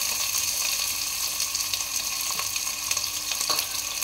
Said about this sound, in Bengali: তো প্রথমে এগুলো একটু হালকা ফ্রাই করে নেব।